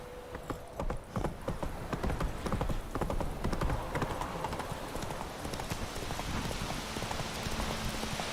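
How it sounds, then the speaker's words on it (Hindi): Horse galloping in the video game The Witcher 3, fast rhythmic hoofbeats pounding continuously and loudly up close, with a rushing, rain-like wash building in the background. "चलो मेरे घोड़े। Faster."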